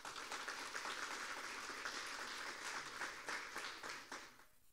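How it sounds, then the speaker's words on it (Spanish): Applause from the gathering at the installation session of the new San Pedro de la Paz municipal council, dense steady clapping filling the room for several seconds before tapering off at the end. "En este aplauso saludamos a nuestras nuevas autoridades"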